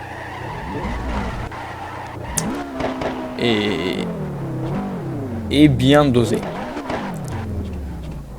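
A Ford Mustang Hoonigan slides through corners with tires squealing and skidding in repeated bursts as the engine rises and falls, loud and close, while someone talks over the noise.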